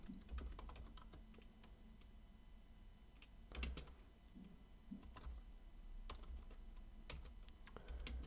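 Code being typed on a computer keyboard at a desk, a steady run of soft key clicks with a few louder taps and spacebar thumps, close and quiet with no talking.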